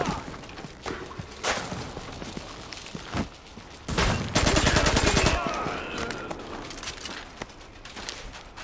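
Bursts of automatic gunfire and scattered single shots from a firefight in Tom Clancy's The Division, loud and close with a dense rattling stretch in the middle, separate cracks around it and a brief voice.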